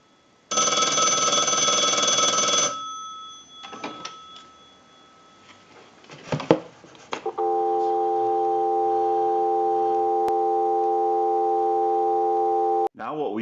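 One brief ring burst from an Automatic Electric three-slot payphone and a few clicks, then a steady telephone dial tone hums for several seconds.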